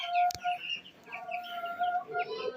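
Young Brahma chickens with feathered feet peep and cluck nearby in a cluster of short, overlapping calls, with a sharp knock early on and no talking.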